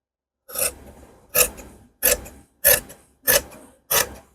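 Scissors snip through men's trouser fabric while a tailor cuts the back piece of the pants, with six crisp, evenly spaced rasping cuts close by and nothing else in between.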